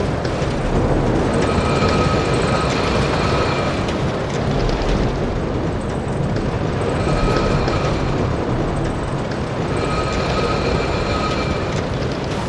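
A roller coaster ride in the game Planet Coaster produces a loud, continuous rumbling roar of the train on track, with recurring high whining tones that swell and fade in a repeating pattern.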